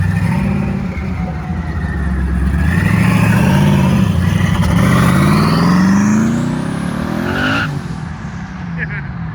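At a Houston car meet, a twin turbo fifth-gen car revs and pulls away loudly with rising engine pitch and tire squeal, amid crowd noise and people talking.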